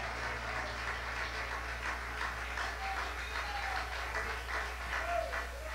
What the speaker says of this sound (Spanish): Gracias por esos aplausos.